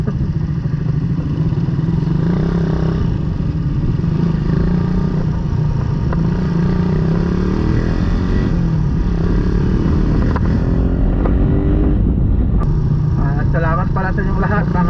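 A Raider 150 motorcycle engine after a performance upgrade runs steadily and loudly near the microphone for the whole stretch, with a person talking over it.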